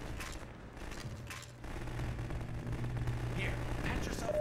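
Alternate-fire shot from a weapon in the video game Half-Life 2, a dull burst of game gunfire blended into dense background effects and music, sustained and moderately loud for several seconds.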